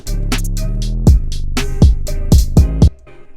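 Dark trap beat in a Toronto style: a booming 808 bass holds steady under crisp hi-hats, with sharp snare hits landing in a syncopated pattern and a final snare left muted as the beat cuts off.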